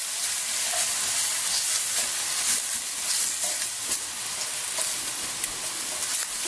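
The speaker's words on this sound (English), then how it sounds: "Continue to give this a couple minutes in the pan to heat up." Bamboo shoots and dry onion fry in a hot pan, giving a loud, steady sizzle with crackling pops and the occasional scrape of stirring, heard up close with no talking.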